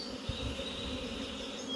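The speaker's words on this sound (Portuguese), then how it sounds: "Chegando um enxame grande de abelha." A large swarm of honeybees arriving and entering a wooden hive box placed inside a house, a loud, dense, continuous buzzing drone close by, with a faint bump near the start.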